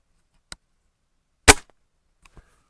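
A single sharp pop from a Gamo Bone Collector Swarm air rifle fired into a dirt pile, close and alone in quiet surroundings, preceded by a faint click and followed by small mechanical ticks.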